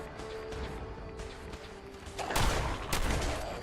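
Shotgun blasts in Fallout 4 during gameplay, with two loud, booming bursts crashing in back to back over a constant rumbling game ambience, close and dominant with no talking.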